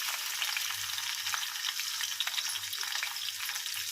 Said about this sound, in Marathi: आपण आता डाळीला इकडे फोडणी देत आहोत तर त्यामध्ये आपण लसूण आणि जिरे टाकलेले आहेत